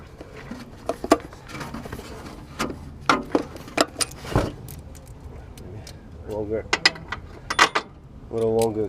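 Ratchet with a socket and extension working on wastegate actuator bolts of a BMW F30 328i, clicking in irregular bursts with metallic clinks, close up, with people talking intermittently throughout.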